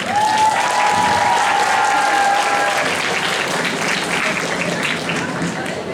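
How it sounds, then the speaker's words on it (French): A theatre audience applauds a student stage troupe with steady, full clapping that holds for several seconds, a sustained tone and faint voices over the start. "Applaudissez-les quand même."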